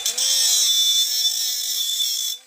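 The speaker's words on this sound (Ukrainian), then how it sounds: "Про всі моменти розкаже вам іскра і болгарка." An angle grinder bites into a brass tap during a spark test, a loud, high whine held steady for about two seconds before cutting off, with no talking.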